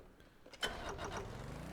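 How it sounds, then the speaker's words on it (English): A ship's engines spin up in the Stormworks game: a faint start, then a sharp onset followed by a steady, building mid-low rumble that rises in pitch as they wind up. "Engines are spinning up."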